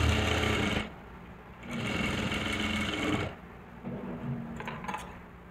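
A sewing machine stitching a lehenga blouse runs in three steady bursts with short pauses between them, its motor hum and rapid needle clatter close and loud, with no talking.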